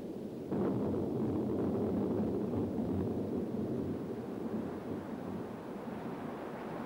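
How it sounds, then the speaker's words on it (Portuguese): A tropical thunderstorm over a dammed area in Africa rumbles as a loud, continuous broadband roar of rain and wind that rises sharply at the start and stays steady throughout, with no voices. "Uma tempestade tropical numa área represada derrama milhões de litros de água no rio."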